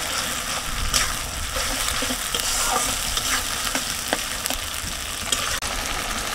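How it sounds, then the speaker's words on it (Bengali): A paste of dried chili, cumin, coriander and ginger fries and is stirred in a pan while cooking chicken bhuna, giving a continuous close sizzle with occasional scraping stir strokes. "মশলাটা আমি সুন্দর করে কষিয়ে নেব।"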